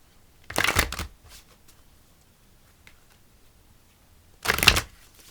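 A Spirit of the Wheel meditation card deck being shuffled, two short riffling bursts about four seconds apart with quiet between them, close and fairly loud.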